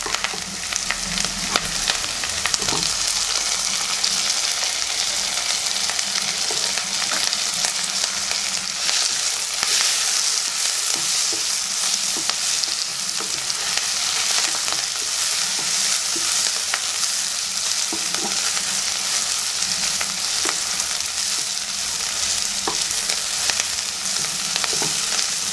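Beef fry with chopped tomato stirred in a hot pan, a loud continuous sizzle close by with frequent spatula scrapes and taps throughout.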